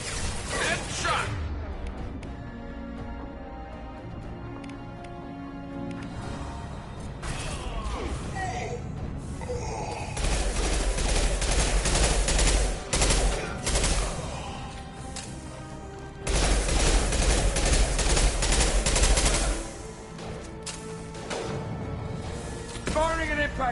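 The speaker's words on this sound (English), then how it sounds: "Firing an impact shot!" Impact-shot gunfire and crashing hits from Mass Effect 2 on PS5, loud bursts rising and falling across the stretch over a constant bed of game music and effects.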